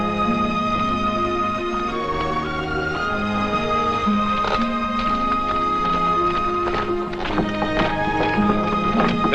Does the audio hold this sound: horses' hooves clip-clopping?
yes